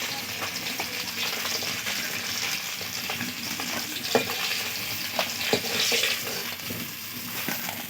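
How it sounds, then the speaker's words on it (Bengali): Bata fish fry in hot oil in a home kitchen, giving a steady close sizzle with occasional sharp pops and clinks from stirring, and no talking. "সব মাছগুলো ভেজে নিয়েছি, এগুলোও ভাজা হয়ে গেছে।"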